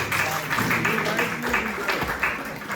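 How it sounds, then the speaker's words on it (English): A crowd keeps clapping for a prize winner at a school award ceremony, a dense continuous patter of hands with talking voices running beneath it. "Clapping should not stop"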